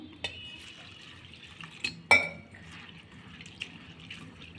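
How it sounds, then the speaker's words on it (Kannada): Soaked rice and flattened rice washed in water in a bowl, faint sloshing and drips with a few sharp clinks of utensil against the vessel, quiet and close, no talk. "ಈಗ ಇದನ್ನು ತೊಳ್ಕೊತೀನಿ"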